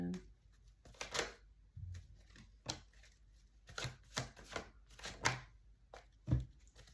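Tarot cards being shuffled and pulled from the deck, heard as a string of quiet, sharp riffling and slapping bursts at uneven intervals over a soft background.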